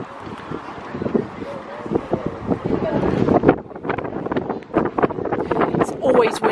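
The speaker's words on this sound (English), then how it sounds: "It's always windy here." Wind rumbles and buffets the microphone throughout while people talk over it at Bicester Village outlet shopping centre, the gusts swelling and easing.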